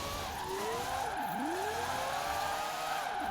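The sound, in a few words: Mazda RX-3 four-rotor race car engine, Forza Horizon 4 video game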